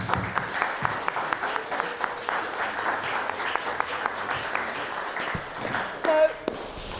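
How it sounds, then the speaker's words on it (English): Audience at a general election hustings giving a sustained round of applause, steady dense clapping filling the room with some voices mixed in. "Can I give a big round of applause for them?"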